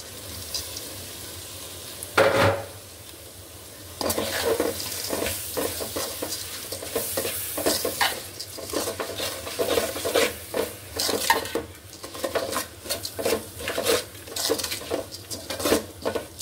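Rice and lentils being stirred and scraped in a pot for khichuri, with repeated clinks and rasps of a spoon against the metal over a soft sizzle, close up, in a steady rhythm after one early clatter.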